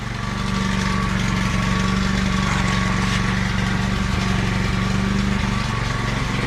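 An electric fan runs in a woodworking shop with a loud, steady whirring drone and a constant low hum that carry unbroken from start to end, with no voices.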